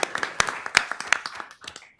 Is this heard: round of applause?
yes